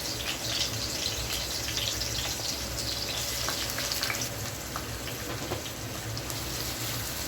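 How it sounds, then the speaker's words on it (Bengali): Onions and green chillies fry in hot oil in a frying pan, giving a dense, steady sizzle close up and unbroken from start to finish, with no voices. "এখন দিয়ে দিচ্ছি কাঁচামরিচ এবং পেঁয়াজ।"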